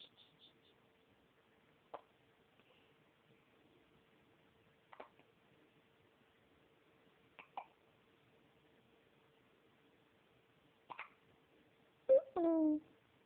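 A baby hiccuping, several small sharp hiccups spaced a few seconds apart in a quiet room, ending with a louder little vocal squeak.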